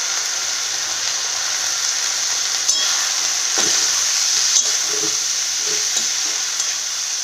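Garlic and radish greens fry in a pan with a steady, close sizzle and hiss, broken by a few soft stirring knocks.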